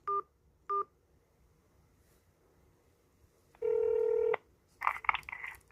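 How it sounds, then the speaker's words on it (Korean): Telephone keypad DTMF tones dialing an area number on a Korean election commission phone line: two short beeps, then a longer steady tone, followed by a burst of quick clustered tones, clear and close. "이하의 지역 번호를 눌러주십시오"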